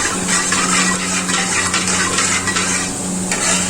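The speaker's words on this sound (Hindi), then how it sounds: "पानी शामिल कर देंगे" Water poured into a cooking pan of fried cumin seeds for rice, a steady hissing, splashing rush that runs continuously and fairly loud throughout, with no voices.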